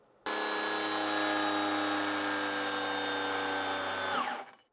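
Makita 40 volt GAG14 cordless angle grinder on a 4 amp hour battery, spinning up abruptly to a steady high-pitched whine for about four seconds before winding down, loud and close with no voices.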